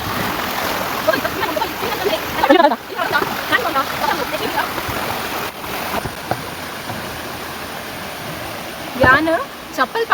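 Water from a dam flows as a stream toward the Netravati river, making a continuous rushing, splashing wash. Voices talk over it and the flow is intermittently partly masked.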